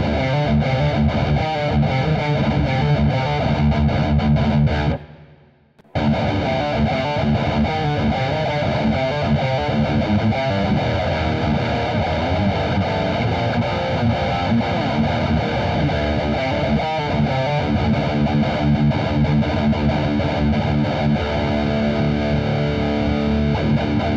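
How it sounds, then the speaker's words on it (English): Electric guitar through a PRS Archon 50-watt head on its own distortion, played as loud, dense riffing that cuts out briefly about five seconds in before resuming, with no talking. "we'll hear the distortion sound without the pedal, then I'll kick it on"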